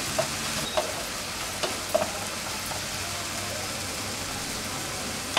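Tomato rice mixture being stirred in a pan, a steady soft sizzle with a few scraping clicks from the spoon, close and continuous.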